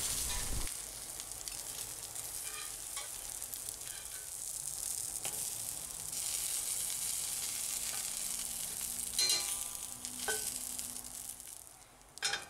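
Buttered muffins toasting in a hot frying pan give off a steady, moderately loud sizzle and crackle, with a few brief scraping and stirring touches and no voices.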